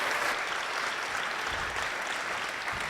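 Sustained applause from an audience at a police honor ceremony, a steady dense wash of clapping filling the room at moderate level from start to finish.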